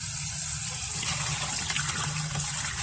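Water runs steadily from a tap while a chicken head is washed, a continuous gushing splash that stays even and close throughout.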